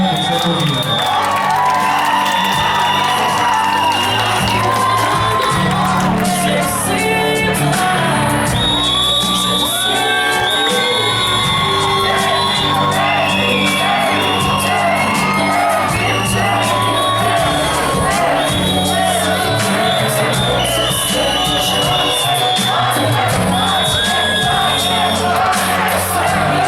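At a high school pageant in Botoșani, a crowd of students cheers, whoops and shouts continuously and loudly for contestants, a dense roar sustained throughout with voices mixed in.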